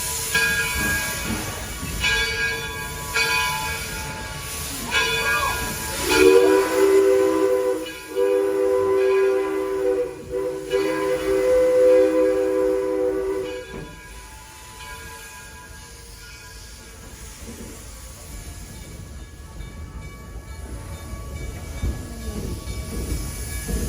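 A steam train at Greenfield Village rumbles along with a long, loud whistle blast in the middle, then fades to a quieter rolling clatter and hiss.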